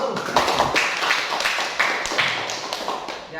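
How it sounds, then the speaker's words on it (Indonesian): Applause from a classroom group after a teaching practice session's discussion and presentation, a steady patter of many hands clapping, fairly close and continuous for a few seconds, with no talk over it. "Oke, kasih aplaus dulu"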